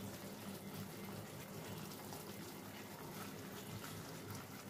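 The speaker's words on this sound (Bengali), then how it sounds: "দিয়ে সামান্য জল আমি এর মধ্যে দিয়ে দেবো, যেহেতু শুকনো মশলা।" Steady gushing of water poured into dry spice masala in a pan while cooking a paneer and potato curry, a continuous, moderately quiet flow with no talk.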